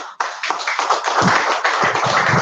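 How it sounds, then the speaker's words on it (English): A live audience at a LinkedIn Local networking event applauds the speakers, dense steady clapping from many hands that starts abruptly and holds at full strength, close and loud with no talk over it. "I would like for you to give them a round of applause."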